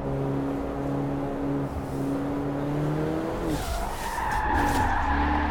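A Mercedes skids through a handbrake turn in Forza Horizon 4, the engine droning steadily before tires squeal loudly and the revs shift as the car slides.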